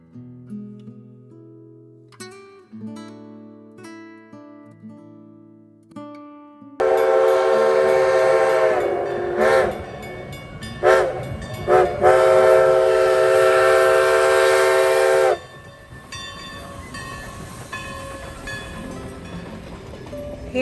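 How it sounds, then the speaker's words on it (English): Everett Railroad Santa Express train heard alone, opening with soft low whistle tones, then a loud sustained steam-style whistle blast with several pulses, followed by the rumble of the moving train. "get a ride on the Everett Railroad Santa Express"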